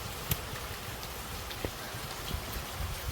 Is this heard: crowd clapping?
no